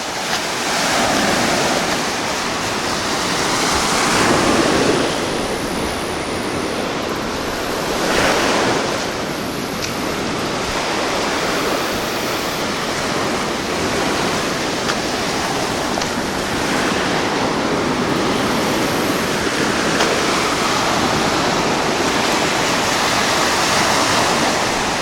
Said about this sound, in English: Here's where the water's coming in over the sand berm.